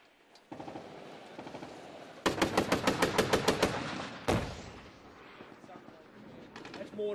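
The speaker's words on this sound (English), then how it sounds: "You hear it cracking, that's incoming like that." Incoming gunfire in Afghanistan cracks in a rapid burst of loud, sharp reports lasting over a second, then a heavy boom, with scattered shots after and a voice talking over the fire.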